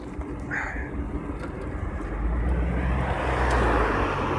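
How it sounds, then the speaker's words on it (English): Cars pass on a tree-lined parkway, and a broad traffic swell builds toward the end. Earlier a bird coos briefly, and the road noise stays moderately distant. "There goes everybody in their warm cars."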